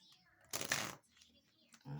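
Tarot cards are shuffled in one brisk, close riffle lasting about half a second, followed by quieter handling noise and a soft voice at the end.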